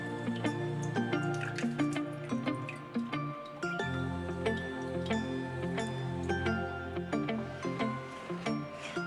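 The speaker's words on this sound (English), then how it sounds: "So we're going to go ahead and strain out 1 cup of water," Peach juice strains out of cans and drips into a measuring cup, a steady run of close liquid drips and trickles with squishy bursts of pouring over about nine seconds, without speech.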